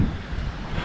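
Steady wind roaring across the microphone aboard a sailboat running at sea near Catalina, a continuous low rushing noise with wave wash beneath and no talk.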